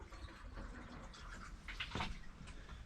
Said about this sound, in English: pour some into the shower